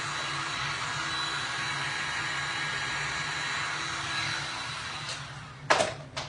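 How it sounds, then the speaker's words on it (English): Blow dryer aimed at resin art, a steady whooshing hiss of airflow that runs evenly for several seconds, then cuts off with a brief handling clatter at the end. "I'm gonna hit this with the blow dryer just for like 2 seconds"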